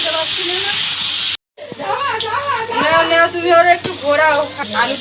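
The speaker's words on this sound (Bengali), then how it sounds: "বেশ লাল লাল করে ভেজে নিয়েছি" Katla fish fries in a pan with a steady broadband sizzle for about a second before a short cut, then a person talks over fainter continuing frying hiss.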